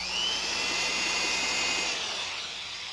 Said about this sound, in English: An electric drill.